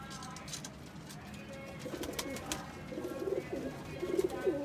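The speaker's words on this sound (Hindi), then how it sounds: "ये कबूतर है" A Ferozpuri pigeon, a flying breed, gives soft low coos that build in the second half, fairly close, over faint background noise.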